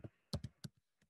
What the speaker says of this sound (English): type in the address